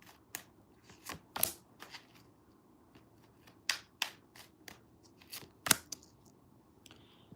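Tarot cards being shuffled by hand: a series of sharp, crisp riffling snaps and flicks arriving in irregular bursts, close and fairly quiet against a near-silent background, with no talking.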